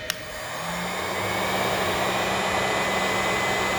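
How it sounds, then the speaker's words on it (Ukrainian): A fan heater (heat gun) runs on its first setting as a 1 kW test load for a DIY inverter voltage stabilizer, starting with a click and then a steady, close, even whooshing blow with a low hum. "і проводжу тест е, тепловентилятором. Теплофеном, чи як його назвати. Перший режим."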